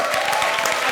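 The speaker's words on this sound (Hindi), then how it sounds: "जोरदार तालियां।" Brief burst of studio audience applause on a comedy show, a dense clatter of clapping heard alone for under a second.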